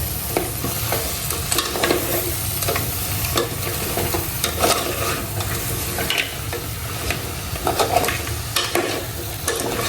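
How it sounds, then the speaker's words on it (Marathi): Masala is mixed into crabs for a spicy Konkan-style crab curry, a steady wet sizzle with repeated scraping and clattering stirs throughout, close and fairly loud. "बऱ्यापैकी सर्व खेकड्यांना आंगड्यांना मसाला लावून घ्यायचे मिक्स करायचे प्रॉपर"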